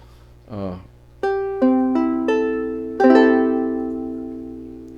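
A 1940s or 1950s Silvertone ukulele plucks four or five separate notes and a final chord, each ringing out and slowly decaying, close and clear after a brief voice at the start.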